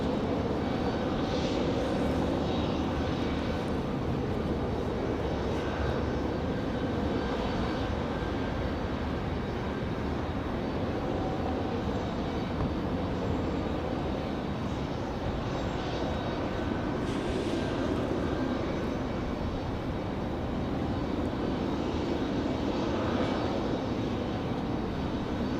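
An airliner at Raleigh-Durham International Airport, departing at night for Miami, produces a steady, broad jet engine roar that holds at a constant level for the whole stretch, with no voices.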